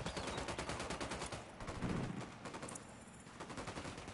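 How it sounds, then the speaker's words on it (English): Rapid machine-gun fire in a tactical shooter game, a fast, even chatter of shots that is dense and continuous, heard quietly and without voices. "Opening fire."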